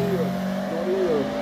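A hillclimb race car at the St Gouéno course climbs past with a rising and falling engine whine that shifts pitch as it goes by, heard under a commentator speaking in French.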